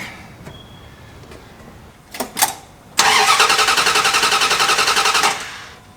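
An engine cranks with a couple of short bursts, then catches and runs loudly for over two seconds with a fast, even rhythmic pulse before cutting off abruptly; it has just had a carburetor adjustment.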